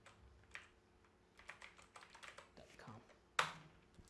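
Keys tap in quick irregular clicks on a computer keyboard connected to an LG smart TV, quiet and close, ending with one sharper keystroke, with a voice speaking in the background.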